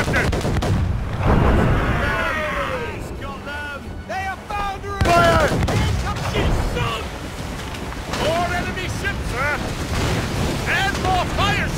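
Ship cannons fire in a naval battle from the video game Assassin's Creed Rogue, a loud, continuous barrage of booms and rumble under shouted voices, with whooshing projectiles and a dense battle din throughout.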